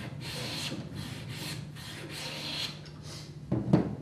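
A hand plane or chisel pares fine shavings from a wooden workpiece down to a marking gauge line, giving a series of soft, close rasping strokes at a steady rhythm, ending with a few slightly louder scrapes.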